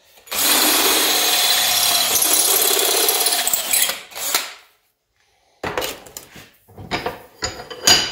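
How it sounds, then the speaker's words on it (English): A power drill whines steadily for about four seconds, stops, then returns in several shorter bursts, loud and close, as it enlarges a hole. "Drill that up a few sizes now."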